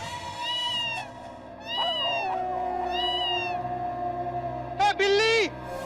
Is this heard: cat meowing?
yes